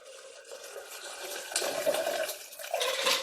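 Liquid for a Black Kamikaze cocktail is poured back and forth between mixing glasses, giving a soft, continuous trickling and splashing that grows a little louder in short surges, with no talking.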